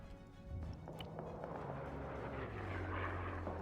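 Aircraft drone steadily overhead in a video game World War battle, a continuous low engine hum that swells slightly toward the end beneath other battlefield noise.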